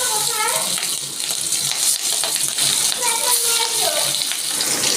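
Hilsa fish pieces fry in hot mustard oil, a steady broad sizzle running throughout while a person talks over it.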